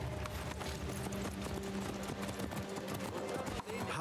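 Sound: horses' hooves clip-clopping in Assassin's Creed Mirage video game

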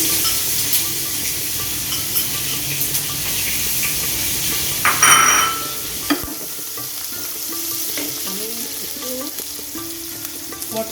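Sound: onion being added and fried in a pan

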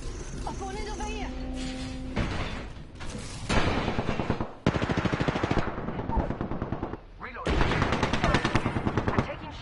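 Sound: gunfire in a video game shooter

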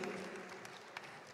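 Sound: audience applause at an opening ceremony

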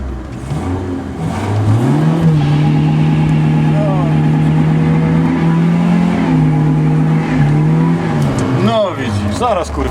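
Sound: car revving and burning rubber

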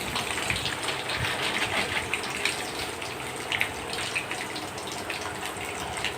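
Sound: mustard seeds, urad dal, ginger and garlic sizzling in hot oil

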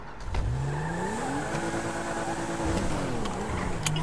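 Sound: four-seater car engine revving in GTA RP video game

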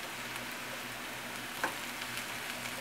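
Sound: rice frying in a pan

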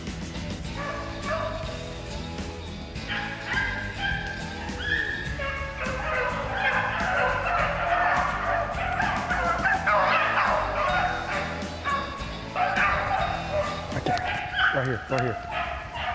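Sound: hunting dogs barking while chasing a rabbit

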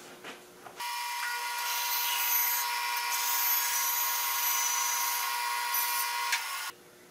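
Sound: band saw cutting a slot through a board

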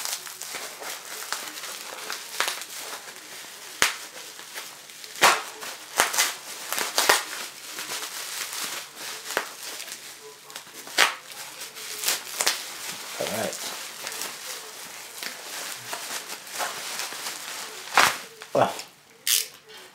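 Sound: ripping open an unboxing package

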